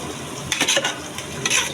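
Khichuri with dried fish being stirred in a pot, a few brief scraping strokes over a low background sizzle, close and short with no talking.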